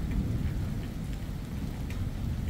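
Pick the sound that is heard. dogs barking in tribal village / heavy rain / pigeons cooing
heavy rain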